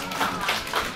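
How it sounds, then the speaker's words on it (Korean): Clapping for a fighter from Kazakhstan after an amateur combat-sports bout, a short run of close hand claps with speech murmuring underneath. "수고해주신 카자흐스탄 알리 선수 박수 크게 부탁드릴게요"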